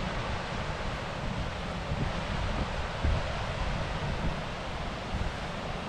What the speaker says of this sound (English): Okay, and it is gusting through now and again.